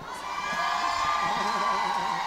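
A crowd of supporters cheers for the girls at a royalty parade of the Festa Nacional do Pinhão, a steady roar of shouts and whoops that holds loud and even throughout.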